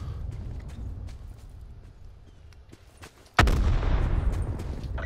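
A grenade explosion bursts loudly in Call of Duty Black Ops 4 Blackout, after a stretch of faint scattered gunfire and movement noise, with a sustained rumbling roar lingering after the blast.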